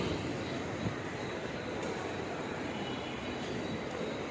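Broad, steady rumble of the large Chhatrapati Shivaji Terminus station hall in Mumbai with trains, a dense wash of noise holding at an even level.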